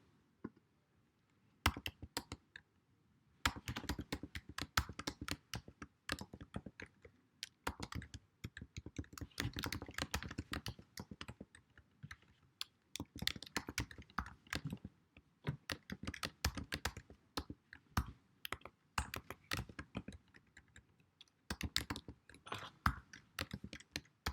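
Rapid bursts of keystrokes on a computer keyboard while code is typed, close and fairly quiet, with short pauses between runs of clicks and no talking.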